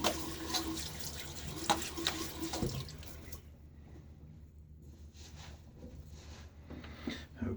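Water from a running tap splashes as a face is wetted before a shave, a close, soft gurgling and splashing that is busier at first, then settles into lighter trickles and occasional drips.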